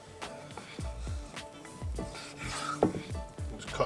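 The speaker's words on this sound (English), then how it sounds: "Just cut down through so they're in sort of large cubes." Knife cutting strips of pork belly into large cubes on a board, a series of close dull chopping thuds and slicing rubs in an irregular rhythm, without talk.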